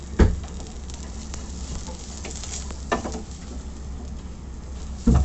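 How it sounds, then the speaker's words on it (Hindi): French beans sauté in a hot pan with salt and black pepper, sizzling steadily up close, with a few sharp stirring scrapes cutting through the frying hiss. "उनको भी ऐसे सॉटे करूँगी 2-3 मिनट के लिए"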